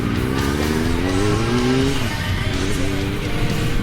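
A Triumph Speed Four motorcycle rides on a shakedown run after repairs. Its engine roars loud and close throughout, with the pitch rising and falling as the throttle changes, under steady wind rush.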